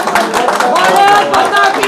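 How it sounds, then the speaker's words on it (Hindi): Loud clapping from a crowd at a political rally fills the scene, dense and continuous, with overlapping voices and shouts mixed in throughout. "जोरदार तालियों के साथ"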